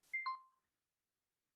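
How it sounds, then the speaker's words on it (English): A computer alarm gives two short tonal beeps in quick succession, faint and clean, followed by silence and the start of another beep at the very end. "People can probably hear my computer alarm going off"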